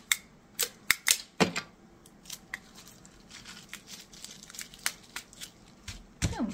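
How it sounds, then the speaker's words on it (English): Strips of regular tape pulled and pressed to close the end of a bubble-wrapped shipping package in a small office, a series of sharp crackling rips and taps at an uneven pace, close and fairly quiet. "I'm just going to tape off the end so that it's nice and contained."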